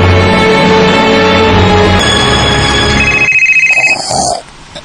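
A telephone rings loudly and steadily with an incoming call from Liya, a continuous electronic ringing tone that shifts pitch partway through and then cuts off abruptly near the end.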